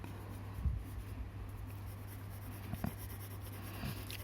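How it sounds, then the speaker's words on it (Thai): Colouring in red on paper by hand, a soft steady scratching with a few brief louder strokes over a low steady hum. "ระบายสีแดงนะครับ"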